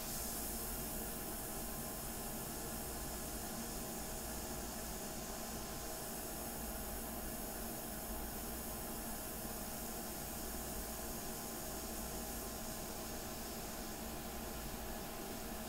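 Airbrush spraying India ink for a portrait painting, a steady, soft hiss of compressed air that runs unbroken and faint for about sixteen seconds.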